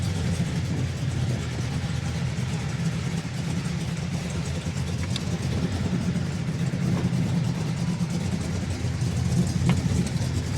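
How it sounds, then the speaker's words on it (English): A 1972 Ford Gran Torino's 351 four-barrel V8 idles steadily nearby, a continuous low rumble with no talking over it. "That 351 4-barrel sounds nice."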